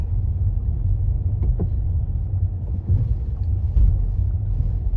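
Car driving at low speed, about 10 km/h, along a Kyiv driving test route past roadworks with potholes, giving a steady low engine and road rumble throughout with a few faint knocks.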